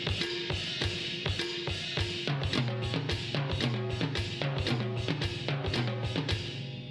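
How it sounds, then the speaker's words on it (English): Drum kit struck with the left hand alone, moving across a timbale, a 12-inch rack tom, the snare and a 10-inch rack tom in a quick, steady repeating pattern, close and loud with no talking. "with the left hand, while that's going on, we're gonna catch the timbale, the 12-inch rack, the snare, and finish on the 10-inch rack."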